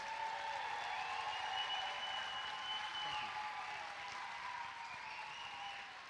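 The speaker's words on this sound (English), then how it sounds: "So let's give another round of applause for our Teachers of the Year." An audience at a school district ceremony honoring Teachers of the Year gives sustained applause, with steady clapping that carries at moderate distance throughout.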